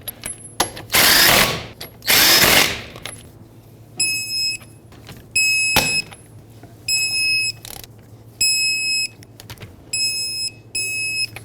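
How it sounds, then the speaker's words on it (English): Power tool driving the five wheel lug nuts onto a 2003-2008 Toyota Corolla, heard as loud close bursts of whirring and rattling impacts, followed by a series of short, regularly spaced high-pitched tonal bursts. "Put back all 5 of your lug nuts, bottom them out"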